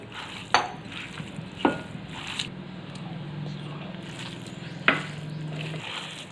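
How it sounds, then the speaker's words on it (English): Semolina (suji) poured slowly into a pan and stirred while cooking for an Indian cheesecake, with soft scraping, light sizzling and a few sharp clinks of a spoon against the pan. "now we're going to add our suji in this. I'll add slowly all of it"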